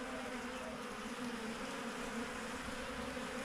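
A swarm of bees buzzes in a dense, constant drone, close and steady throughout, with no voices.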